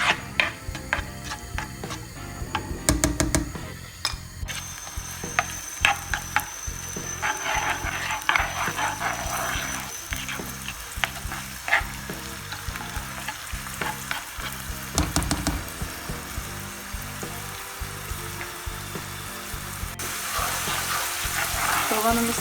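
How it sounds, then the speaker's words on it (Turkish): Onions sautéing in olive oil in a pan for a zucchini dish, a continuous sizzle broken by repeated scraping and stirring clicks from a utensil, close and steady throughout. "Soğanımız kavruluyor."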